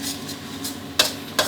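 Fish sauce stir-fried in a hot oiled wok while cooking squid in black ink sauce, with close, intermittent sizzling bursts and a couple of sharp spatula scrapes against the pan.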